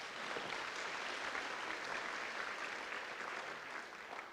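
An audience applauds after a talk on building trust, a dense wash of many hands clapping at an even level for several seconds, with no voices over it.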